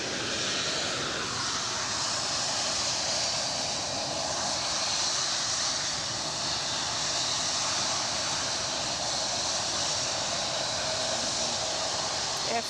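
Aircraft engine roar at Edinburgh airport, a steady broadband rumble and hiss holding throughout, with a subtle shift in tone near the start as the engines settle into a continuous drone.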